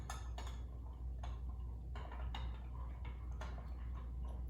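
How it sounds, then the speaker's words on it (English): A spoon stirring yeast and sugar into a cup of milk, with quiet repeated clinks and taps against the cup over a low steady hum, no voices. "Gonna give that a stir"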